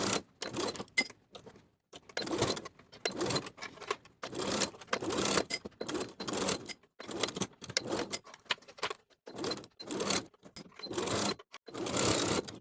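A sewing machine stitches a single layer of satin tie across a blouse bodice in many short, stop-start bursts, close and fairly loud, with brief pauses between spurts.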